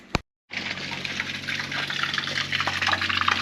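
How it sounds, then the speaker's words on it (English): Water gushes and splashes steadily out of a Prevost Class A motorhome's plumbing as it drains during winterizing. A short burst comes first, then a brief silence, then continuous flow close by. "So we'll try to get that water to all come out."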